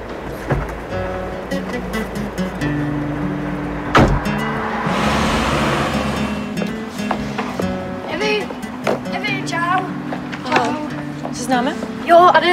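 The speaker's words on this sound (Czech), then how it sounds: "Jede auto, tak nejde." A car passes on a street, its engine and tyre noise swelling and fading over steady background sound, with brief knocks and people talking nearby.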